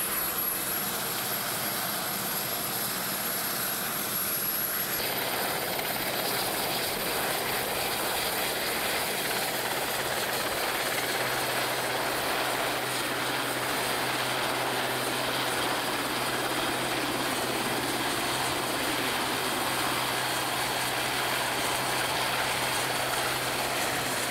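A coastguard helicopter engine drones steadily and loudly throughout, a dense continuous roar with the pitch shifting slightly partway through.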